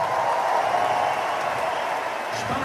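A large crowd at a rock concert in Münster claps steadily, a dense, even roar of applause heard from within the audience.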